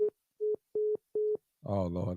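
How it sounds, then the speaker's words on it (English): A telephone tone beeps four times in even, steady pulses, each brief and clean, before a person speaks briefly at the end. "I think that was my phone."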